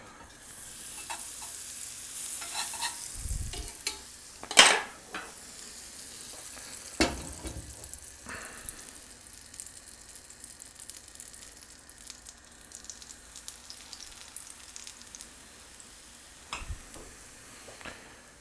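Butter frying in a small pan, a quiet crackling sizzle with a couple of sharper clatters and utensil knocks early on, then a low steady frying hiss.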